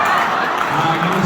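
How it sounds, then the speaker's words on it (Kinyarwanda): Audience applause, a dense continuous wash of clapping from a crowd, loud and sustained through the short moment, with voices mixed in. "Amashyi menshi."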